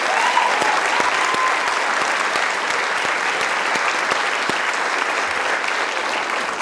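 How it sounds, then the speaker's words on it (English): A large crowd at a Bellows Falls high school class night applauds the community's scholarship generosity, a dense, even roar of clapping with a few sharper individual claps standing out, loud and sustained from start to finish. "that last round of applause was for the Bellows Falls community and their generosity in supporting the graduates"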